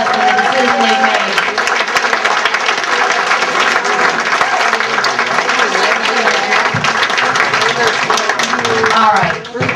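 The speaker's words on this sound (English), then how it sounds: "A round of applause for the decision they made." Audience at a community coining ceremony for soldiers gives a loud, sustained round of applause and clapping, with voices and cheering mixed in from the crowd throughout.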